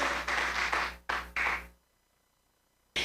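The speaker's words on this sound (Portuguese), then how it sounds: "pode aplaudir ao Senhor" A church congregation applauds during a Renascer service, a dense burst of clapping lasting under two seconds that cuts off into silence, followed by a short final sound at the very end.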